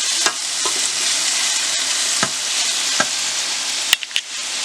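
Onions fry in a casserole for chicken legs, a loud, even sizzle hissing throughout, broken by a few sharp clicks and taps of a utensil against the pot.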